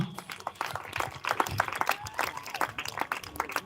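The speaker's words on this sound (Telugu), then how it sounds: "చక్కగా స్కిట్ వేసిన బాప్టిస్ట్ మందిరం యొక్క స్త్రీ మైత్రి బృందానికి ఒకసారి గడిగ చప్పట్లు కొడదామా" An audience claps for a women's fellowship skit at a Baptist church semi-Christmas gathering, a brief burst of close, uneven hand claps that patters on steadily for a few seconds.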